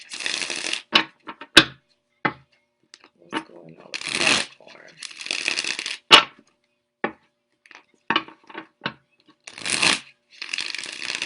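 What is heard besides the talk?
shuffling cards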